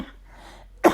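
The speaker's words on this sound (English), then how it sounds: "I will be so happy when this cough is gone" One short, sharp human cough, close and fairly loud, bursting out at the end of a quiet stretch with only faint room noise before it.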